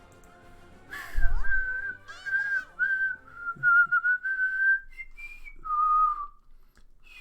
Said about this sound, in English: I hit that weird whistle tone